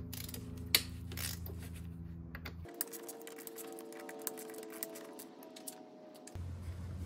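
Ratchet with a Torx socket working bolts loose on a Mercedes A-Class or B-Class W169, sharp clicking and metallic ticks in uneven bursts against a humming background, close and fairly quiet.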